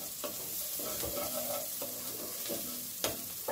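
Onion sautéing in a pan, a continuous close sizzle with scraping stir strokes and occasional spatter pops, no voices.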